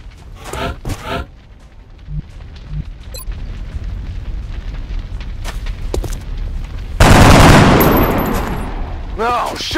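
A loud explosion bursts in XCOM Enemy Unknown after scattered game sounds and brief voices, a broad blast roaring and slowly fading over several seconds.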